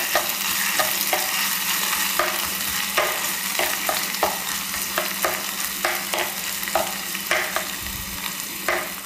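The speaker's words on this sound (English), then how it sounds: "Add my ginger. Okay. Give that a quick stir." Ginger fries in hot oil in a pan, with a constant bright sizzle and a quick, regular series of spatula scrapes as it is stirred, close and steady, with no talking.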